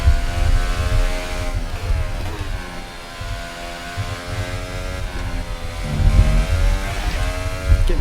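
An F1 car engine in a racing video game, driven with a Logitech G29 wheel, pedals and paddle shifters, whines loudly and steadily throughout, its pitch climbing and dropping through several gear changes.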